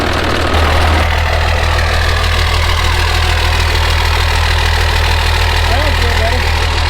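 A 1970 Ford wrecker truck engine, missing its fuel cut-off solenoid, catches and runs loud and close, a steady low idle with a rougher, knocking start before settling into an even rumble.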